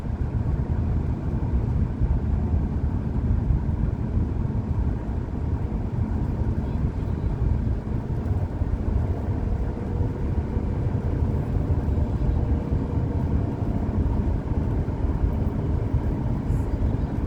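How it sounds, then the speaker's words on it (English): Steady low engine drone of a car revving while driving down a mountain road in the Bighorn Mountains, Wyoming, a continuous rumble with no breaks and no talking. "you're going to hear the car motor kind of revving out"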